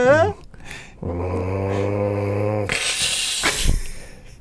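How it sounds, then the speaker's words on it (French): A cat gives a low, sustained growl lasting a couple of seconds, followed by a breathy hiss; a voice is briefly heard at the start. "Ça, c'est mon chat. Elle miaule pas, elle grogne."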